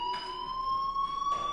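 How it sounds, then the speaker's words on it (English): A fire alarm rings in the Life is Strange video game, a steady high electronic tone with a faint pulsing buzz, moderately loud and unbroken across the short stretch, with no voices. "Hey, do you hear that fire alarm?"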